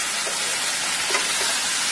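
Water poured into a hot pan of katla fish head and bottle gourd curry gives off a steady, dense hissing sizzle that holds evenly for the whole stretch, close and fairly loud.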